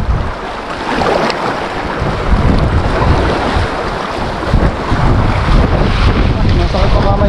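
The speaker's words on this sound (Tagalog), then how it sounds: "Ang lakas ng hangin dito sa kaliwa ko." Strong wind buffets a small fishing boat at sea, a loud continuous roar of gusts against the microphone mixed with wave wash, steady for the whole stretch.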